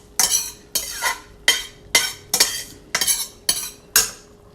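Pasta being scooped out of a pot with a metal utensil while making baked macaroni and cheese, with some stuck at the bottom: eight evenly spaced scraping clinks, close and fairly loud, with no voices.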